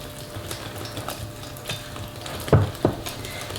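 Yogurt tea cake batter with oil being mixed in a bowl, a soft wet churning under faint background noise, with two louder sloppy strokes near the end.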